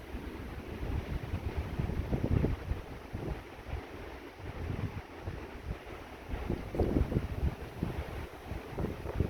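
Strong wind buffeting the microphone during a high-precipitation supercell thunderstorm, a steady low roar that swells in loud gusts around the second and seventh seconds.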